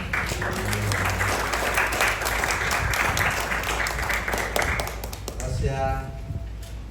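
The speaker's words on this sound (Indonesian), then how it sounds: "Tepuk tangan semuanya" Guests applaud during a ring exchange at a wedding ceremony in a chapel in Bandung, a steady wash of clapping that fades near the end, with voices underneath.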